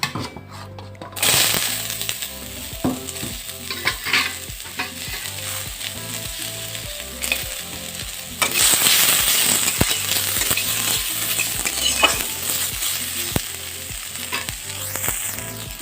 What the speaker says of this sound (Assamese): ইয়াতে এতিয়া মই কলৰ বাকলিখিনি অকণমান ভাজি ল'ম।